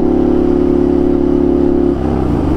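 A motorcycle engine drones loud and steady at high revs while accelerating to about 70 km/h, then the pitch shifts and drops near the end as it eases off.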